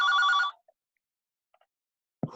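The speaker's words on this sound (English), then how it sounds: "That was my office phone." An office phone rings at a county committee meeting, a short burst of electronic trilling tones up close, then near silence before a voice starts.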